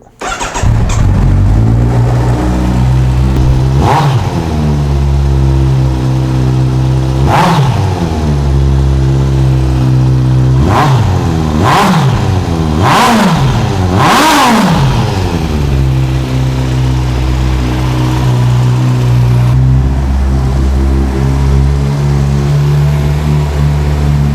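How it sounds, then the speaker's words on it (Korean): A 2018 Kawasaki Z900 ABS motorcycle starts and idles loudly up close, then revs in several sharp throttle blips, two of them in quick succession, before settling back to a steady idle. "네, 시동 한번 걸어 보겠습니다."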